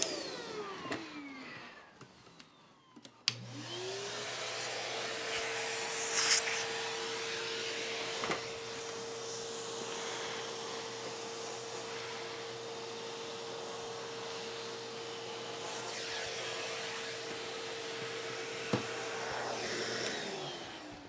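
A Shark DuoClean vacuum cleaner starts up after a click and runs with a steady, loud motor whine and airflow hiss, holding constant for a long stretch.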